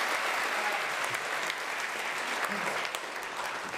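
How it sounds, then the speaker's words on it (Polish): A theatre audience applauds loudly and continuously throughout, dense clapping that fades only slightly near the end. "Wielkie brawa dla Roberta."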